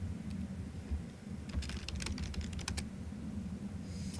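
A short burst of computer-keyboard typing, rapid clustered key clicks over a steady low hum, stopping after a couple of seconds, with no voices.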